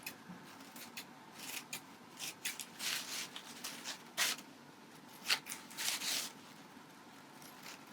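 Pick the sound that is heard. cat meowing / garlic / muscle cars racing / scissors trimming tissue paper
scissors trimming tissue paper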